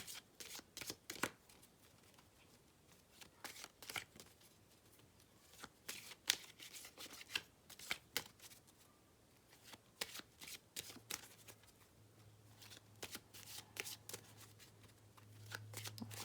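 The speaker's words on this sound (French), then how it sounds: "je vais d'abord battre bien les cartes en posant bien l'intention du tirage" A deck of tarot cards is shuffled by hand in repeated quick riffling bursts, close and fairly quiet, with soft rustles between them and no talk.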